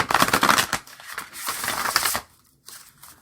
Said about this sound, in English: I really like the way they shuffle.